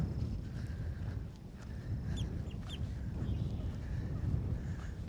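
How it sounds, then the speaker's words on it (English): Scattered clucking, chattering gallinule calls at moderate distance in a wetland, with a few sharper notes midway, over a steady low background rumble. "The gallinules are scurrying all around, making noise. Lovely calls."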